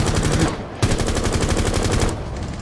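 Sustained rapid-fire machine gun bursts in a video game, loud and close, rattling almost continuously with a brief break near the start and no voices over them.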